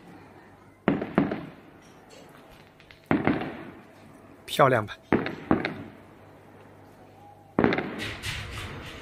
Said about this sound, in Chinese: 这就是远处的烟花